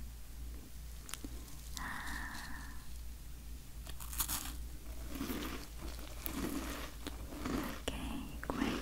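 A chocolate chip cookie is bitten and crunched close to the microphone in a quiet setting, with several crisp crunches, chewing and a brief crinkle over a low steady hum.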